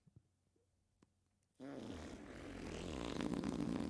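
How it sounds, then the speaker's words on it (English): A fart sound effect played from a voice changer app bursts in loud after a second and a half of near silence, then holds as a rough, sustained blast to the end. "We also have a fart sound effect because I'm 2 years old."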